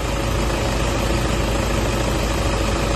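A Toyota Wigo engine idles close by, giving a loud, steady, even rumble with a constant hum and no change in pace or talk across the short stretch.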